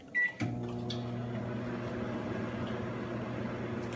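A microwave oven reheating rice: a short click and beep, then the steady electrical hum of the running oven, close and even throughout.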